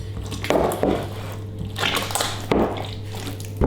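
Wet sourdough baguette dough is squished and kneaded by hand while extra water is worked in, giving close, sticky squelching bursts in an irregular rhythm over a steady low hum.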